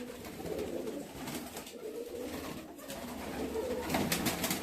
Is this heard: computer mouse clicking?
no